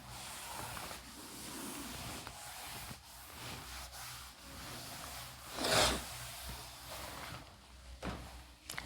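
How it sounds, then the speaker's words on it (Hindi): Chalk or marker writing is rubbed off a classroom board during a physics lesson on electrostatics, a soft scrubbing swish with a sharper burst of wiping near the end, no voices over it. "मैं इसको रब कर रहा हूँ अब"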